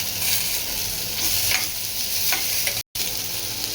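Whole spices for a Karnataka-style sprouted horse gram curry sizzle steadily as they fry in a pan, with a few scraping stir strokes over the constant crackle and one very brief dropout near the end.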